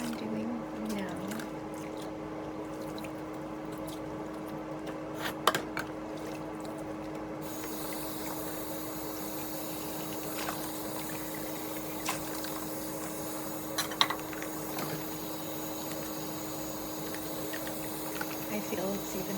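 Dishes being washed by hand in tiny gloves, with soft running water and faint scattered clinks of dishware, quiet and close, a few sharper clinks standing out.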